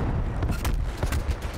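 SKS rifle fire in Call of Duty Black Ops Cold War, a rapid series of loud booming shots and impacts packed closely together amid dense game noise.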